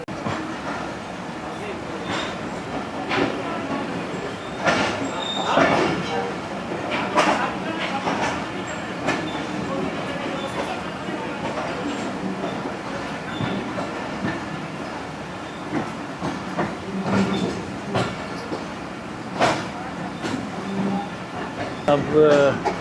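The Pak Business Express on Pakistan Railway pulls away after a station stop, a low rolling rumble with scattered clanks and knocks, heard under a voice talking.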